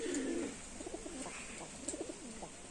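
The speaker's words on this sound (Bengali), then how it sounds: "দেখো এটা লটন মেল পায়রাটা দেখো কত সুন্দর লাগছে" Lotan pigeons coo in a loft, a loud low burst at the start followed by a run of softer, rolling, repeated coos from close by, with no talking.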